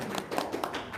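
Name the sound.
applause, clapping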